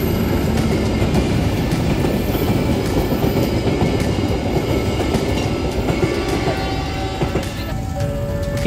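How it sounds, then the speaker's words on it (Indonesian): A Pasundan passenger train rolls through Solo Balapan station, its wheels clattering steadily over the rails in a loud, continuous rumble close by, with faint background noise and no talk. "kita melihat melintasnya kereta api Pasundan yang berjalan langsung di stasiun Solo"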